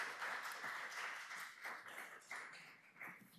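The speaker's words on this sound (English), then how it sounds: "Don't clap, we haven't passed it yet." A stretch of scattered clapping from the audience at a Durham city council meeting, steady and moderately loud with uneven bursts, no voices standing out.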